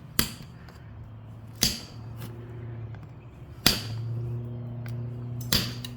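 Sharp, bright clicks of stone knapping ring out as the edge of a stone dagger preform is worked, four distinct strikes spaced a second or two apart over a low background hum.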